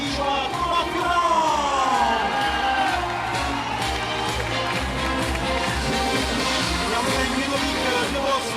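A crowd applauds and cheers at the Honda CBR 500 Cup motorcycle race podium in Albi, continuous clapping and whoops behind a loud announcer speaking throughout.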